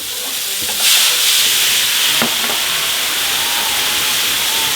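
Steak flambéed with cognac in a hot pan, a loud, close, steady roaring hiss and sizzle that swells sharply near the start as the flame catches, then holds at a constant level.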